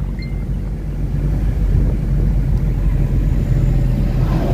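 A car drives along a rural road from Adamshah Bazar toward Kalibazar. A steady, loud rush of wind buffets the microphone over a low, continuous road and engine rumble, with no pauses.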